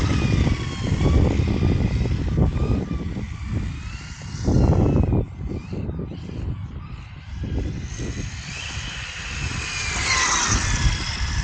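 A Hobao VTE2 electric RC car, fitted with GRP tyres and a 1600 kV motor, drives continuously. Its high motor whine and rough rolling noise swell and fade as it speeds past.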